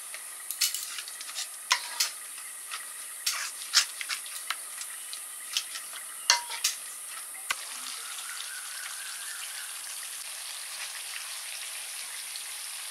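Biuli dal being mashed and stirred with a bowl gives a run of wet, irregular taps and scrapes for several seconds, then settles into a soft, steady hiss.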